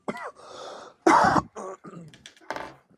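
Several harsh coughs and throat-clearing bursts, close and loud, separated by short pauses.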